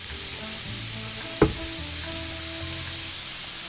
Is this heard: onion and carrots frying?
yes